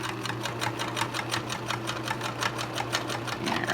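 Sewing machine stitching through extra fabric layers of a pleated face mask, a rapid steady needle patter with a low motor hum, close and continuous without talk.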